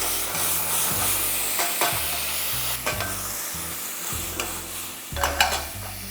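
Onion paste sizzling and frying in hot mustard oil for a Bengali prawn dish, a steady close hiss broken by several stirring scrapes and bursts of crackle, with no talking.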